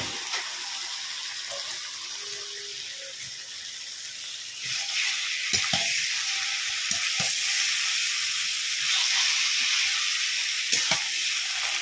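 Cock chicken meat sizzling and frying in a spiced masala with turmeric, a steady crackling hiss that grows louder partway through, with occasional stirring clatters.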